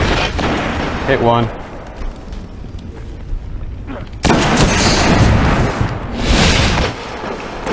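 A grenade goes off in the Destiny Trials of Osiris multiplayer mode, a sudden loud burst with a broad rumbling tail, preceded by players talking over game noise.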